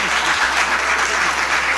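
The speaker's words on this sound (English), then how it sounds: "The applause, which is usually not permitted" Loud, dense applause from an audience at an impeachment hearing, a continuous wash of clapping filling the whole short stretch.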